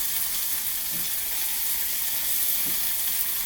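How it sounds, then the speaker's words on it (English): Chicken pieces browning in a hot pan on turned-down heat give a steady, close sizzle with no pauses, and a couple of soft low bumps from the pan break through it. "Get a nice brown, nice color on them. Make sure they're cooked."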